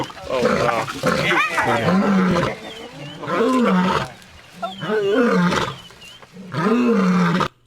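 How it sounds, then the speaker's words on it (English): A male lion roars in repeated deep, loud, close bellowing bursts, about five drawn-out roars with short pauses between them, alone without talk. "the male lion pretty much let it be known that he's running the show"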